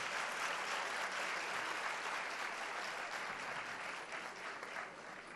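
A crowd at a Hindi poetry recital at the Sahitya Aajtak 2024 festival applauds steadily, a dense wash of clapping that holds level throughout and eases off slightly near the end.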